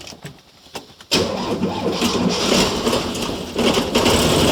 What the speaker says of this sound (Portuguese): eu vou dar a partida para vocês verem de como que é a partida do carro com o avanço muito adiantado